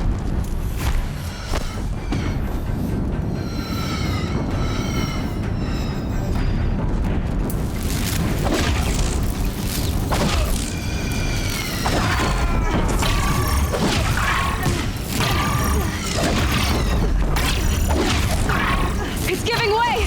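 Heavy booms, grinding mechanical crunches and rumbling debris as a bridge gives way under enemy fire in a story-mission video game battle, with loud continuous low-end rumble, sharp impacts and in-game voices speaking over the chaos.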